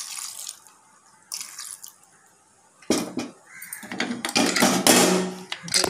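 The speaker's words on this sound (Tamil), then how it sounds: "இன்னும் கொஞ்சம் தண்ணி ஊற்றிக்கலாம்." Water splashes and pours into a cooking pot for boiling greens in a noisy rush that grows louder midway, with faint drips and clatter before it.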